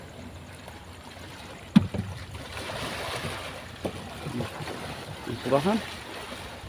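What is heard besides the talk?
rough sea waves around a fishing boat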